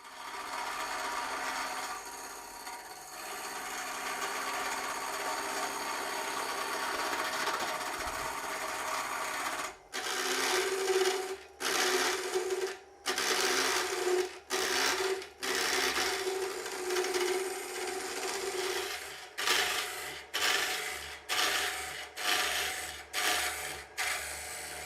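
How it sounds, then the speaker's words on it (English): A tungsten carbide square cutter turning a blank between centres on a wood lathe gives a continuous scraping rasp, then a run of repeated cuts that start and stop in a choppy rhythm over the motor's steady hum, close and clear. "we will turn down to the round using the tungsten carbide square cutter"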